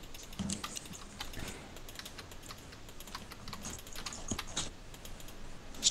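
Steady, close typing on a computer keyboard while building a city in Minecraft: a continuous stream of light, irregular key clicks over several seconds, with no talking.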